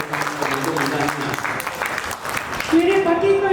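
An audience at an alumni meet claps steadily, a dense spread of applause heard under and alongside a voice, with a sung or sustained tone entering near the end.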